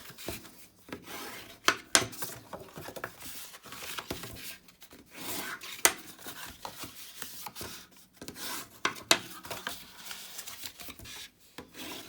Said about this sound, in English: So we just need to fold and burnish all the score lines.